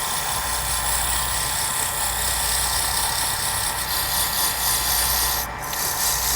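Rough 80 grit sandpaper rubs against a turned pen spinning on a lathe, a steady close hiss with a constant motor hum underneath and a brief pause near the end.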